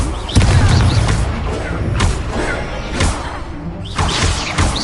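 Explosion spells go off in a fight in the video game Hogwarts Legacy, with loud, heavy booms over a dense, continuous roar of battle.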